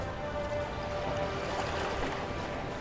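Ship diesel engines running at full ahead in a submarine video game: a steady, moderately quiet mechanical rumble mixed with a watery wash of hull and waves, continuous and unbroken.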